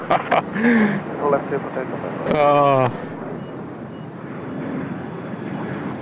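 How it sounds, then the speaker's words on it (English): An airliner takes off from runway 34 left at Sydney Airport, a broad, sustained engine roar rumbling under radio-style air traffic control voices talking throughout. "Runway 34 left, clear for takeoff"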